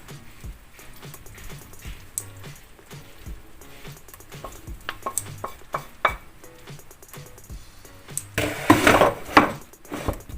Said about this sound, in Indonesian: Baru diaduk-aduk.